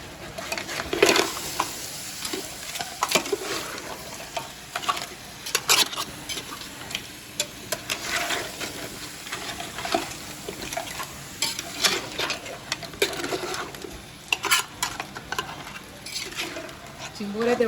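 Chimbori crabs cook in oil in a pan, a low sizzle under frequent clatter and scraping of a spoon stirring against the vessel, heard close up with no talk.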